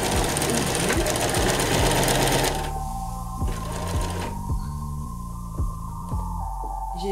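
A sewing machine stitches a seam on a costume, running loud and steady up close with a fast rhythmic mechanical throb, then slowing into a clearer repeating beat of needle strokes that continues to the end.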